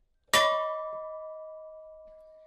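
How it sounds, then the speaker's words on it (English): A single memorial bell at Split Rock Lighthouse, rung for a crewman lost in the sinking of the Edmund Fitzgerald, strikes once loudly and rings on with a long, slowly fading tone that carries through the rest of the quiet moment. "as the bells chime for each man lost in the sinking of the Edmund Fitzgerald"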